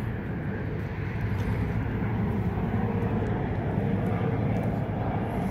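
A model airplane motor drones steadily and continuously with a buzzing, propeller-like hum, running loudly and evenly throughout without pauses or voices.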